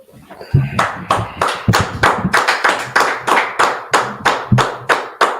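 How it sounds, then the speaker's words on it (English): Hands clap close and loud in a steady, evenly spaced rhythm, roughly a dozen sharp slaps in a row after a brief quiet start, with no voices alongside. "Clap it up."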